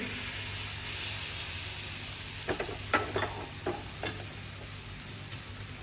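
Thin besan flatbread frying in oil on a griddle, a steady loud sizzle with several sharp pops and crackles in the second half as oil is added around the edges.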